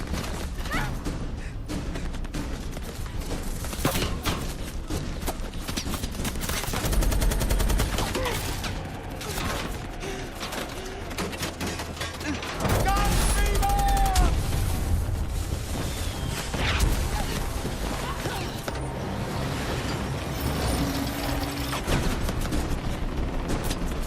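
Gunfire from a film scene, dense and continuous, with bursts of shots and mechanical clatter layered under a loud, busy soundtrack, swelling in intensity around the middle.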